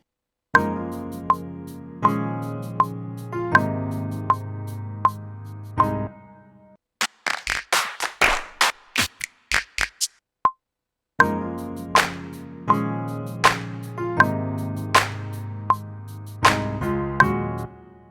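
A programmed clap and shaker loop for a gospel music production plays in a steady, repeating pattern, with sharp clap hits over tonal backing and a brief exposed stretch of percussive hits in the middle.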